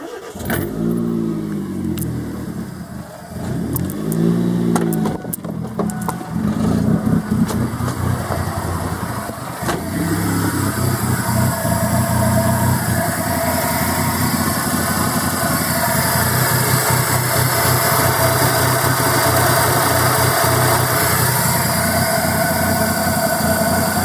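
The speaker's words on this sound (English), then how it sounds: "Okay, we're going to disconnect that and start the engine." A 1344cc Kia Rio with an engine fault starts, briefly revs, then settles into a steady idle that stays loud and close throughout.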